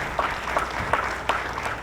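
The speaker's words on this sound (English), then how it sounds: "Can we give the command staff for fire a round of applause?" Audience applause at a fire department retirement ceremony, a steady broadband patter of clapping hands with a few sharper individual claps standing out, moderately loud throughout.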